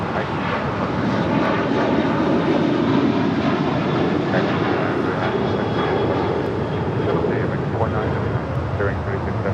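Airplane taking off on a runway at LAX airport, a loud, steady broadband engine roar that holds throughout, with faint background voices underneath.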